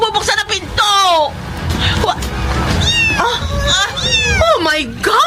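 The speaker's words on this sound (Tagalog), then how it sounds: "May pusa sa labas ng kwarto!" Cats meowing and caterwauling outside a room, several rising and falling yowls repeating across the clip, loud and close under frightened voices talking over them in a horror drama.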